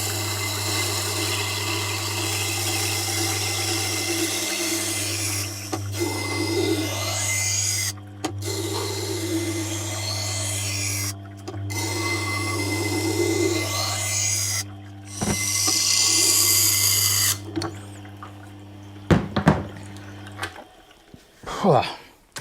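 A sharpening setup on a Tormek running a 160 grit belt: a steady loud motor hum with a continuous grinding rasp, several brief pauses, and clunks and handling noise as it winds down.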